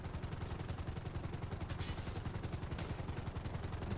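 Rapid automatic gunfire during a casino heist shootout in a video game, a dense continuous rattle of shots at steady volume with no talk over it.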